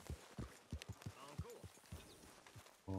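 Horse hooves clip-clopping in the video game Red Dead Redemption 2, a series of soft, evenly spaced thuds at a walking pace, heard alongside someone talking.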